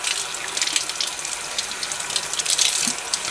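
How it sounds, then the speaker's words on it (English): Tap water runs steadily over onion, chili pepper and chard being rinsed in a kitchen sink, a close, continuous splashing hiss with slight surges. "Just give them a little wash, leave it here to dry."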